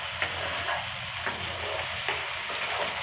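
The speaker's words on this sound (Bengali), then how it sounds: "তাই এই মশলাটা খুব ভালোভাবে কষাতে হবে।" Spice masala sautéed in a pan for hilsa pulao gives a dense, even sizzle throughout, with a few soft stirring scrapes on top, steady and close, and no one speaking.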